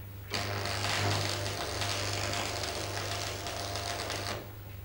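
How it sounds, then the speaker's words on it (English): Manual metal arc stick welding laying a tack weld on clamped metal parts, a steady crackling buzz with a low hum that starts abruptly, holds for about four seconds and cuts off. "Tack weld as before at one end."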